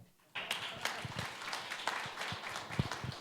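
Audience applause for speakers at an investor pitch event, starting abruptly after a brief quiet moment and continuing as a moderate, steady clapping with some voices underneath.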